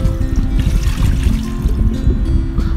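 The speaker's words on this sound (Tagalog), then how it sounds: "Lagyan natin siya ng tubig" Water pours loudly and steadily into a pressure cooker holding beef, a close, continuous splashing trickle with no pause.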